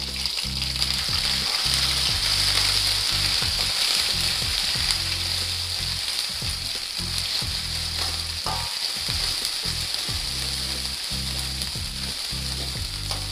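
Chicken frying with lemongrass leaves crackles in a loud, continuous sizzle, broken by repeated scraping stirs of a utensil through the pan, close and with no talking.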